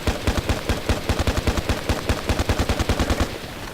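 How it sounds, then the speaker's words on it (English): An L85A2/FAMAS rifle in Battlefield Play4Free tap-fired in a rapid, even string of roughly two dozen close, punchy single shots, evenly spaced over about three seconds before stopping. "Now tap firing."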